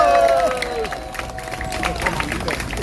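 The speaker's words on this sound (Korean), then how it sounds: "여기서도 박수 한번 해야 됩니다." An outdoor political rally audience in Gwanghwamun claps and cheers after a speech by a former vice defense minister, a brief burst of scattered applause mixed with crowd murmur and a voice at the start.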